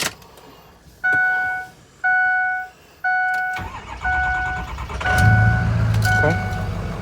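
A stranded car's engine cranks in several short repeated bursts, with a chime sounding during each try, then catches and settles into a steady, close idle.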